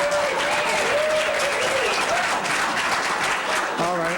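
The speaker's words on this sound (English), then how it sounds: "All right, I'll let you have one applause." Audience applause fills a city council meeting chamber, steady dense clapping throughout, fairly loud and continuous, with a voice briefly rising over it near the end.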